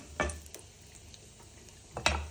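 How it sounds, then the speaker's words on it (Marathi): Mustard seeds and a clove-and-black-pepper masala fry in hot oil for a Maharashtrian matki and vatana dish. Faint crackling sizzle is broken by two sharp, close pops, one at the start and one near the end. "थोडीशी मोहरी घालू त्यानंतर थोडा लवंग मिरेचा मसाला घालू तो तेलामध्ये परतून देऊ"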